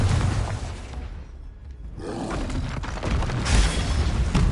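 An explosive Confringo spell in Hogwarts Legacy, heavy booming blasts with a roaring rumble, a brief dip in the middle before another loud burst builds up, with no talking.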